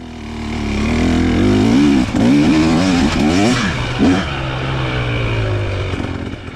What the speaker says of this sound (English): trying to get a grip of this bike and race up this hill